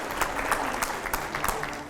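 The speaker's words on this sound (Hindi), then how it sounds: "पहले ज़ोरदार तालियां हो जाए" An audience at a political event claps steadily in a brief burst of applause, dense and fairly close, with no voices standing out.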